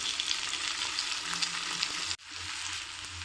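Onions and tomatoes fry in hot oil with mustard seeds, a steady close sizzle with crackling bursts that cuts out briefly and then resumes.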